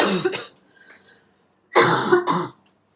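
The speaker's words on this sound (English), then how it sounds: "Okay, that was coughing." Two separate bursts of coughing, a short one at the start and a louder, longer one after a brief quiet pause, close to the listener.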